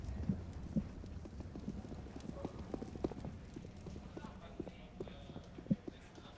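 Rapid footsteps in Counter-Strike on the Vertigo map during an ESL Pro League match, a quiet run of soft irregular thuds under a steady murmur of voices.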